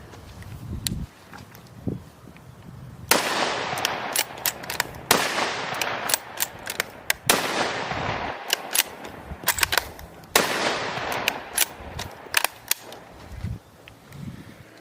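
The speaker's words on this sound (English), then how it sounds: "Let's fire off this last mag." Savage Axis .223 rifle firing a magazine outdoors, a series of sharp loud cracks at irregular intervals, some quick pairs, with faint echoing decay between shots.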